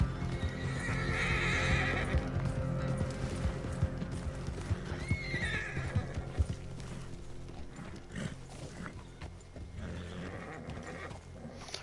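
A horse in the video game Red Dead Redemption 2 whinnying loudly near the start, with several more neighs and snorts alongside clip-clopping hooves and scattered thuds across the whole stretch.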